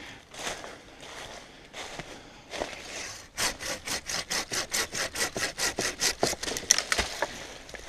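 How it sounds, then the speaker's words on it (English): An Ichiban Samurai hand saw cuts through a tree, starting with a few scattered strokes and then settling into a fast, steady run of about a dozen loud, close rasping strokes. "I think that tree needs to go."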